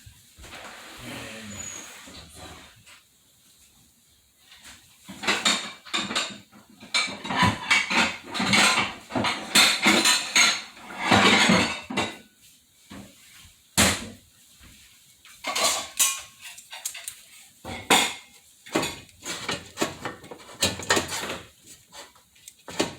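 A spoon scoops food from a pot into a bowl at close range, with irregular clinks, scrapes and knocks of metal on cookware scattered between quieter pauses.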